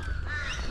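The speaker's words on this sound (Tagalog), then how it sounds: "Yun yung ibon na naghahabol eh" A single crow caw sounds, short and fairly close over a low background hum.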